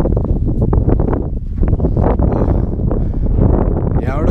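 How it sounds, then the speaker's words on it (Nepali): Wind buffets the microphone on an open hill trail near Kashi Bhanjyang on the route toward Tanchok in Nepal, a loud, steady, rumbling roar with gusts running through the whole stretch. "हावा चाहिँ सही चल्छ कि"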